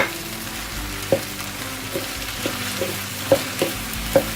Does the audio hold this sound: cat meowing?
no